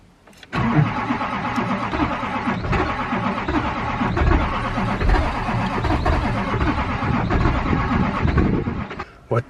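Cold Duramax diesel truck engine cranking over and over without catching, a steady grinding starter churn close by for several seconds, with a few faint voices in the background.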